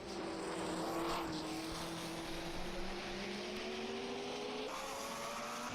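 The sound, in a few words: high-revving Lancia D50 race car engine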